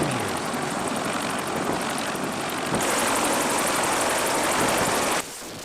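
A Sikorsky CH-53 heavy-lift helicopter with three turboshaft engines roars overhead, its rotor chop and turbine whine loud and sustained, swelling stronger midway before easing off near the end.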